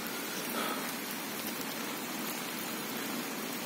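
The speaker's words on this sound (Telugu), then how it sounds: "ఈరోజు మార్నింగ్ నుంచి 3-4 అవర్స్ ని కంటిన్యూస్గా వాన్ పడుతుంది." Heavy rain falls on a flooded paddy field, a dense continuous hiss of drops on water and surface, steady and fairly close with no voices.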